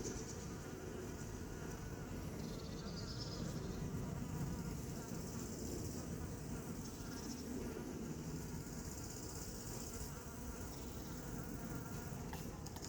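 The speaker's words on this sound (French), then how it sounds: "l'abeille qui traverse" Dense, continuous buzzing of many bees around a hive in an apiary, steady and close, filling the whole stretch with a layered insect drone.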